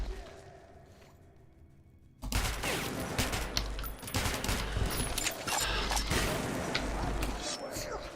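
Gunfire in Metro Last Light breaks out after a quiet start: loud, rapid automatic bursts and shots that run on steadily, mixed with thuds and some voices.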